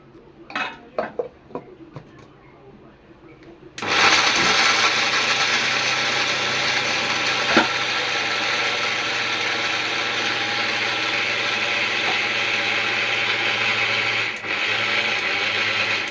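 A mixer grinder runs loud and steady for about twelve seconds, blending flour, jaggery and cardamom for festival cooking, after a few quiet clinks and handling sounds at the start.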